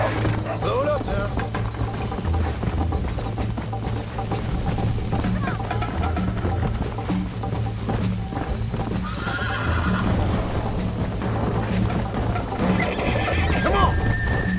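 A horse in the video game Red Dead Redemption gallops with steady clip-clopping hooves and gives whinnying neighs, loud and close amid game sounds, while someone talks and shouts over it.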